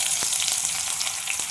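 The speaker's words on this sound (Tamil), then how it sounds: "இதை நல்லா ப்ரௌனிஷ் ஆகிற வரைக்கும் நல்லா வதக்கிக்கலாம்" Chopped onion fries in oil, sizzling and crackling continuously and loudly, with small pops scattered throughout.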